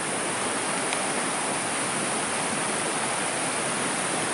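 A creek runs beside a hiking trail in a steady, dense rush of flowing water, loud and close, with no voices over it.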